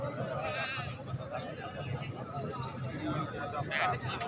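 Goats bleating amid a busy livestock market crowd, wavering cries rising over constant chatter and people talking nearby, with a louder bleat near the end.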